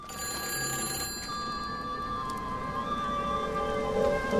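A telephone rings in the game Everybody's Gone to the Rapture, a steady sustained bell tone over a faint hum, with no talking.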